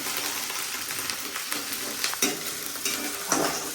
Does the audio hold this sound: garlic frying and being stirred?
yes